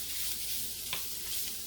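Sausage in a skillet, a soft continuous sizzle with one brief scrape as it is stirred, fairly faint and without voices.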